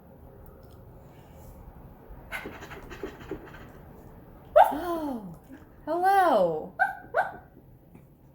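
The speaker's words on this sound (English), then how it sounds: "it's a ghost dog." A ghost dog in a video game pants and then lets out several drawn-out whining barks in close succession, after a quiet stretch of faint rustling; a person briefly speaks a greeting partway through.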